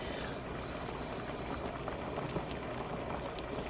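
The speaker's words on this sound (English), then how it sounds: "it's boiling right now" Chicken and wild rice soup with zucchini, green beans and potatoes boiling steadily in a pot, a continuous close bubbling and simmering hiss with no break throughout.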